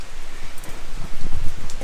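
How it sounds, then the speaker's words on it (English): Steady rain patters on a temporary work cover sheltering a machine under repair, a dense close hiss with scattered heavier drops and a few soft thumps. "it's raining on me, and I got a temporary little work cover here."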